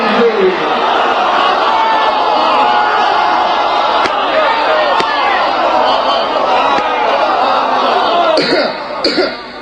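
A large crowd at a majlis chants a religious slogan, a loud sustained roar of many voices with a few sharp thumps and a fade near the end.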